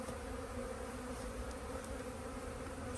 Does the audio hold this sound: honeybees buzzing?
yes